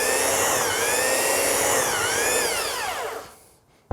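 A belt sander grinds against wood with a loud, steady whine whose pitch sags and recovers under load, then winds down over the last second before a brief knock.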